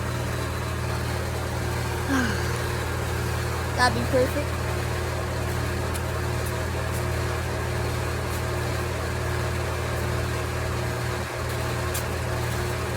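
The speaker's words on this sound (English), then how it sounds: "It's gonna be a little noisy out here because of the AC unit being right next to my bikes." A steady mechanical hum and drone from an outdoor air conditioning unit running beside parked motorcycles, continuous and fairly loud throughout, with a brief spoken remark over it.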